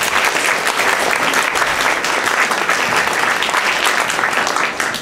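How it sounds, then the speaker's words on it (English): An audience applauds panelists at a discussion event, a loud, dense and steady wash of clapping that lasts throughout. "Let's have a big round of applause for our panelists."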